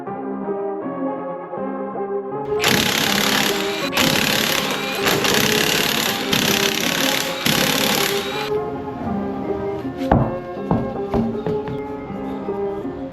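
A power tool, likely an impact wrench, installs 1.5-inch wheel spacers on a Nissan 350Z, a loud rattling burst lasting several seconds up close, followed by lighter clanks and metallic handling sounds.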